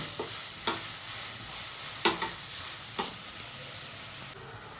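Onions sizzle steadily in a hot pan while being fried until reddish-brown, with a few sharp scraping stirs of a spatula breaking through the continuous crackle; no voices.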